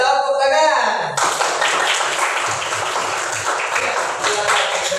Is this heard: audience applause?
yes